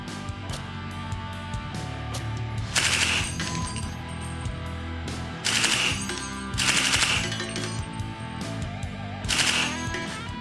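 Shots from a 300 Blackout SAW on an outdoor range, sharp loud bursts in quick strings separated by quieter gaps, with metallic clinks of casings between them.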